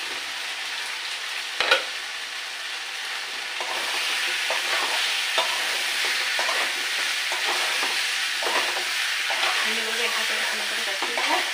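Okra frying with potatoes in spice paste sizzles steadily in a pan, broken by a sharp knock early on and intermittent stirring scrapes throughout.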